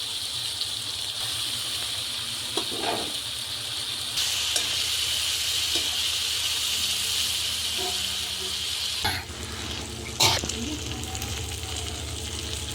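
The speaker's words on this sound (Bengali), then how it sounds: "যখন তেল ছেড়ে দিয়েছে জানবেন মশলাটা ভাজা হয়ে গেল।" Ground spice paste with turmeric fries in hot oil for a Bengali fish curry with cauliflower, giving a steady, close hiss and sizzle with a few brief clatters near the end.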